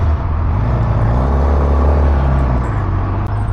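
A 2027 Suzuki GSX-R750 sport motorcycle engine runs close by, giving a loud, steady, deep idle rumble that holds without pause through the whole stretch, with no talk.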